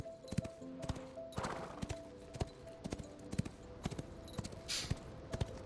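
Horse hooves clip-clopping in the Ashes of Creation video game, a steady run of sharp, close hoofbeats over a faint game ambience, with a brief whinny-like burst near the end.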